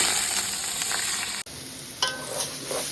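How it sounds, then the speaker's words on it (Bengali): Washed polao rice and masoor lentils fry in a little oil for khichuri, giving a steady bright sizzle up close with a brief stir and a few louder crackling bursts after a short break. "এখন চালটা একটু ভাজা নিব"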